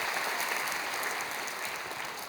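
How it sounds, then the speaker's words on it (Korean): A church congregation at a baptism service in Korea applauds in welcome, a continuous, even wash of many hands clapping in a large room, with no talk. "여러분께 박수로 환영하시지요"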